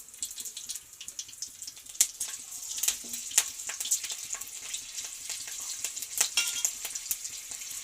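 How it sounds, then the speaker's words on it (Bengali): A green chili sizzles and crackles in hot tempering oil for a cauliflower stem dish, a faint hiss with scattered sharp pops and light spoon scrapes close by, and no talking. "একটা কাঁচা লঙ্কা ফোড়নের মধ্যে দিয়ে দেবো। ফাটিয়ে দিয়ে দিলাম।"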